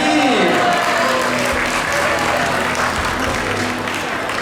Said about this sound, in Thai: ขอเสียปรบมือให้กับ น้องนีนะครับ